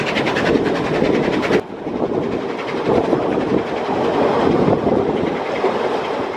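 A narrow-gauge train on the Weißeritztalbahn runs loud and close on its steepest stretch through a narrow conifer valley toward Kurort Kipsdorf, with steady rumbling wheel noise and a rhythmic clatter that briefly quiets partway through.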